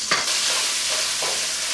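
Bacon frying in a pan during succotash cooking gives a steady, close sizzle with a brief scrape of stirring near the start and another soft one later, no voices.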